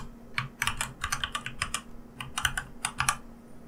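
Keystrokes on a computer keyboard as a password is entered, clustered bursts of quick clicks with short pauses, close and moderately quiet over a steady low hum.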